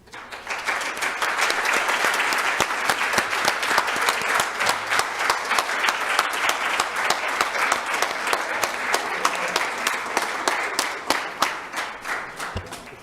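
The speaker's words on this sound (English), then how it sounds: "Parents and grandparents, will you please stand so we can give you a round of applause?" Sustained round of applause from a board meeting audience honoring standing parents and grandparents, many hands clapping steadily and fairly close for about twelve seconds before tapering off.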